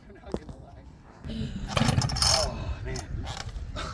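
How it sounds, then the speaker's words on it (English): A large vintage chainsaw is cold started: its small engine coughs and catches, then runs rough and loud with a rising buzzing snarl, close by, with faint mechanical clatter before it fires. "I've cold started a few different chainsaws here and there"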